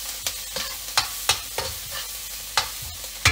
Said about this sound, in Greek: σοτάρω εδώ τον τόνο, το κρεμμύδι το σκόρδο από δίπλα,